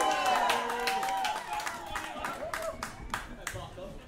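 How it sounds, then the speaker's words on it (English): Scattered audience clapping in a small venue at a band's final gig, sharp individual claps that thin out over a few seconds, with talk and cheering mixed in. "let's have a round of applause for the Swan for helping us on bass for the first song"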